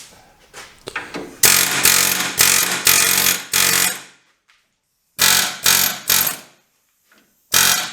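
Loud, sharp metallic hammer blows on rusty front suspension parts of a 2003–2008 Toyota 4Runner, struck in quick bursts of several hits with short silent pauses between groups.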